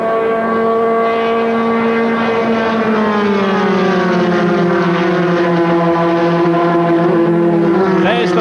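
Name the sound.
Formula 3 racing cars passing at speed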